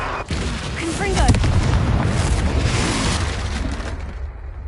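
A fiery Confringo spell blast in Hogwarts Legacy erupts as one loud, sustained explosive boom with rumbling debris that fades out over a few seconds, game voices faintly mixed in.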